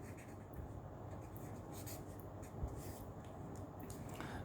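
A pen scratches steadily across paper while a maths solution is written out, a soft continuous rubbing with small strokes, close and quiet with no talk.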